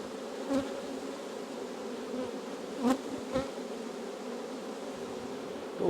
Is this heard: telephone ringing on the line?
no